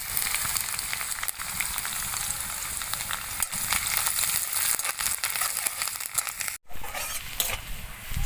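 Chopped ginger and garlic fry lightly in hot oil with whole cardamom, cloves and cinnamon, giving a close, steady sizzle with a few brief gaps.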